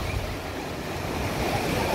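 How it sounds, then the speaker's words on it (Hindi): Strong sea waves wash in at Shivrajpur beach near Dwarka, a steady close rush of surf with a faint wind edge and no voices. "कितनी जोर जोर लहर आ रही है, एकदम नमकीन पानी है"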